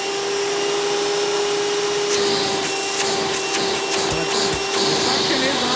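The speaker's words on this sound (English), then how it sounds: "suction is honestly pretty good for a vacuum like this" A Hoover Convertible Elite upright vacuum cleaner runs with a steady, loud whine and a constant motor hum, punctuated by brief rattling bursts from the plastic hose and attachments.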